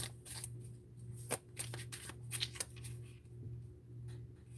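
A deck of cards is shuffled for a reading, with soft repeated riffling and flicking bursts over a faint steady hum, close and quiet, with no talk.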